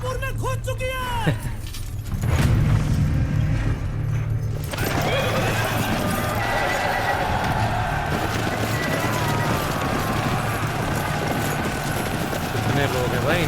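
Horses gallop in a battle scene as a Maratha army charges into Burhanpur, a loud continuous rumble of hooves and commotion over dramatic sound. Voices talk over the start.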